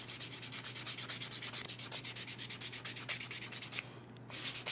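A nail file sands across fingernails while a simple French nail art manicure is done, giving a steady, close, rhythmic scratching in quick repeated strokes with a brief pause near the end, no speech.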